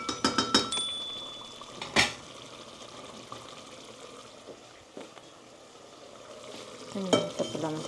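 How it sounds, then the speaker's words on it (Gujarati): Spinach being ladled into a simmering gravy for palak paneer and stirred in the pan: several metal clinks and scrapes of the ladle at the start and end around a soft, continuous sizzle, heard close by. "તો અહીંયા મેં ચમચા વડે પાલક બધું એમાં નાખી અને હમણાં બધી સાથે ગ્રેવી બનાવી કાઢું."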